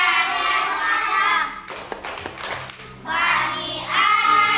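A children's clapping song about the signs of growing up, sung by voices over rhythmic hand claps, with a short stretch of scattered taps and thumps in the middle before the singing and clapping resume.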